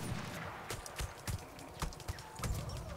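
Horse galloping in the video game Battlefield 1: a steady run of hoof clip-clops with sharp transients repeating across the clip over a dense game background.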